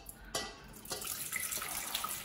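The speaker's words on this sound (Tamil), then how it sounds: "இப்போ நூடுல்ஸ் வேக வைக்க நான் தண்ணி ஆட் பண்ணிக்கிறேன்." Water runs into a pot for boiling noodles, a steady splashing flow from a tap after a couple of sharp knocks, close and moderately loud.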